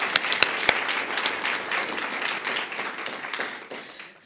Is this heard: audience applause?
yes